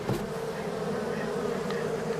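Steady droning hum of many honey bees buzzing together inside a hive, continuous and close, with no other sounds standing out.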